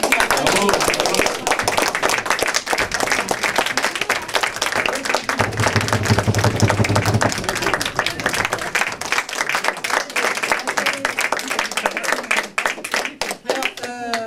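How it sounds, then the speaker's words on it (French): A theatre audience applauds a troupe after a play, giving dense, sustained clapping from many hands throughout, with a voice speaking over the applause. "on les applaudit encore du fond du cœur"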